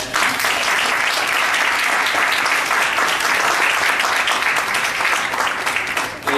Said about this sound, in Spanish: Creo que debemos proporcionarle un nuevo aplauso al doctor.